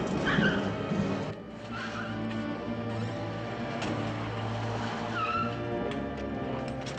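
A car pulls away quickly in an old film scene, its engine revving loud and near with squealing whines across the whole stretch and a brief dip partway through.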